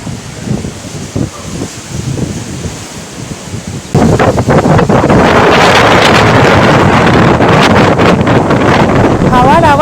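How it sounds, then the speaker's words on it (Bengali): Strong sea wind buffets the microphone atop a tower at Kanyakumari by the sea, growing suddenly into loud, constant roaring gusts that swamp everything else. "হাওয়ার আওয়াজ শুনতে পাচ্ছেন তো?"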